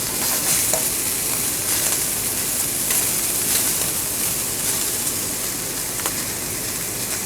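Vegetables sautéing in a very hot pan, a dense, even crackling sizzle close by, broken by occasional stirring scrapes, with no voices over it.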